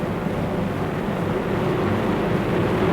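Four 2,200-horsepower aircraft engines turning 16.5-foot Hamilton propellers run together in a steady, broad, droning roar that holds evenly throughout, with no voices.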